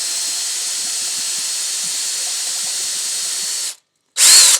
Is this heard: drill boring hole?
yes